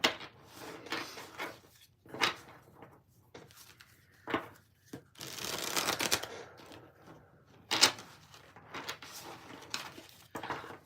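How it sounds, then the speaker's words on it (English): A deck of tarot cards is shuffled by hand in close, quiet bursts of soft riffling and clicking, separated by short pauses, with no talking. "the shuffle on this is super smooth"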